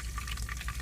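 Butter melting and frying in a hot pan beside steak, cooked inside a truck: a steady close crackling sizzle with small irregular pops, heard alone.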